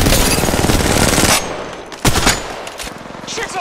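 Rapid automatic gunfire from a video game shooter, a loud sustained burst for over a second, then a sharp single crack and scattered lighter shots over a busy, noisy background.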